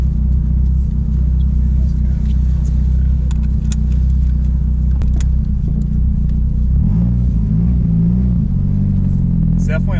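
A JDM right-hand-drive turbo hatchback with individual throttle bodies drives along, its engine rumbling loud and close, rising and falling in pitch as it revs and shifts, with a voice heard over it.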